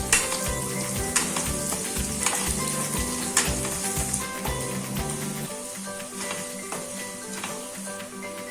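Radish curry with onions and rock salt being stirred in a hot pan, a steady sizzle and frying hiss with soft scraping taps of the spoon running throughout, close and fairly loud.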